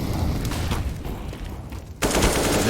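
Rapid AK rifle bursts in a CS:GO match at DreamHack Masters Winter, a dense continuous rattle of gunfire at loud level, briefly thinning before a sharp renewed burst near the end, with no voices.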